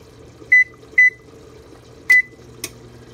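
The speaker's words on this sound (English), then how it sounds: "I'm gonna set my oven at 400." Three short electronic beeps from a kitchen oven's control panel as the temperature is set to 400, spaced unevenly and loud over a quiet room hum, followed by a faint click.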